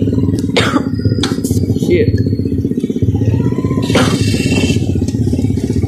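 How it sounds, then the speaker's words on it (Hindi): A motorcycle engine brakes on a dirt road in Hyderabad, a steady close throbbing drone with rattles and scrapes over it, while someone talks over the engine. "चलो एक काम करते बाइक को खुद ही इंजन ब्रेकिंग करने देते हैं मैं ब्रेक नहीं मारूंगा"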